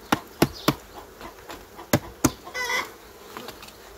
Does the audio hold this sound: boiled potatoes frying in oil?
no